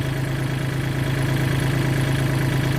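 A Kubota L3606 SP tractor engine runs steadily at idle, a low, even diesel rumble with no breaks or voices.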